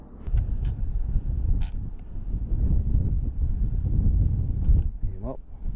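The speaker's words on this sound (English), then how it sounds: "Again, a sunny day in Scotland and it's windy, getting wind warnings." Strong wind on a sunny, windy day in Scotland buffets the microphone in a steady, heavy low roar that lasts throughout. A few faint short sounds and a brief wavering tone poke through near the end.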